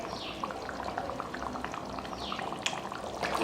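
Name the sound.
soup boiling on stove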